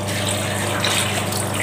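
Water poured from close by to rinse the rubber door gasket of an LG front-loading washing machine, a loud continuous splashing gush with no break and no talking.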